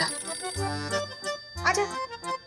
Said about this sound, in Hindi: नैना जा फोन उठा,